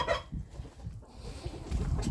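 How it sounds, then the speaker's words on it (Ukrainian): Farmyard ducks and drakes being driven into their pen give short, scattered calls close by, mixed with shuffling and rustling, no talk heard. "Давайте заженемо качок зараз."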